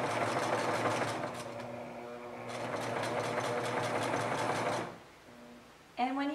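A sewing machine stitching fabric runs with a steady mechanical whir and rapid needle rhythm for about five seconds, briefly pausing midway, then stops before a voice begins speaking.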